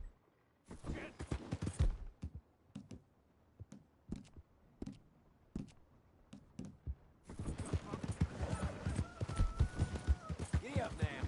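Horse hooves clip-clop in a video game as a mount is ridden, with sparse separate steps at first and then a quicker run of hoofbeats over a fuller background.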